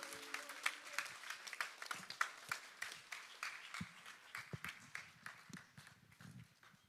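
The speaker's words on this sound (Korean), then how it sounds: "우리 주님께 영광의 박수 드리고 들어가시겠습니다" A church congregation at a conference gives sustained applause, a dense, fairly quiet patter of many hands clapping from a distance that continues evenly for about seven seconds.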